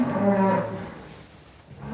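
Holstein cattle from cow and calf pairs moo nearby, one loud, drawn-out low call followed by a fainter second moo rising toward the end.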